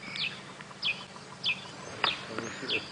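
A grey-headed sparrow gives a short, high call about five times at an even pace on a sunrise safari drive. Each call is faint and distant against quiet bush ambience.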